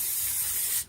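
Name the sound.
spraying rubbery plastic anti-rust rocker guard coating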